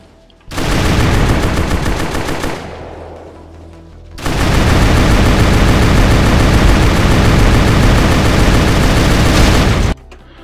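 Loud, sustained automatic gunfire in rapid bursts in GZDoom with the Brutal Doom mod, a dense crackling barrage that dips briefly before resuming at full intensity for several seconds.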